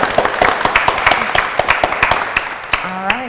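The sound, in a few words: applause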